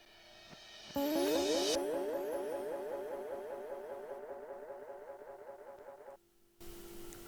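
Orchestral R&B sample with steady cymbal wash and a repeating bending guitar sound effect riding over it, loud and continuous, dropping out briefly near the end before resuming.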